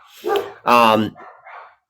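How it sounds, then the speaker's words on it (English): Dogs bark nearby, giving two loud, full barks in quick succession followed by softer trailing yelps. They sound indoors and close rather than distant. "they're just dogs, and and they are barking in the background"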